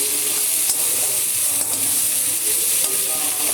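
A spice paste is stir-fried in a pan, with a dense, continuous sizzle up close and a few sharp spoon scrapes against the metal.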